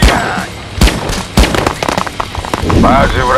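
Rapid gunfire bursts from Cannon Fodder 3, sharp cracks at the start and again near one and a half seconds, with busy clatter in between and a tonal game effect toward the end; a voice talks over it.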